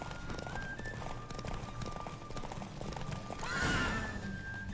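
Horse hooves galloping during a race in the video game Witcher 3, a continuous rapid clip-clop over faint game music, rising briefly into a louder rushing swell near the end.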